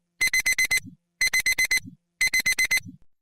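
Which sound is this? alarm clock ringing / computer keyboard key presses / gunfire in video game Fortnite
alarm clock ringing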